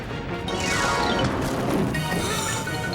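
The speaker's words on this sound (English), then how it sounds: "The ice is splitting the rock! The statue's breaking away from the mountain!" Cartoon sound effect of ice splitting rock as a statue breaks away from a mountain: a sustained grinding crash with cracking and rumbling debris, loud and continuous for about three seconds.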